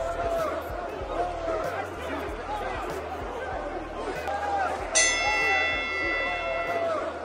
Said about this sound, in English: The bell rings for round 1 and we are underway.